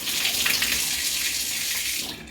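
Water runs steadily from an opened tap at close range, a continuous loud hiss that tails off at the very end, with no talking.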